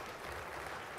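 Audience applause fills a ceremony hall as a deputy minister of food, agriculture and livestock is invited to the podium at an awards event, a steady dense wash of clapping from start to finish.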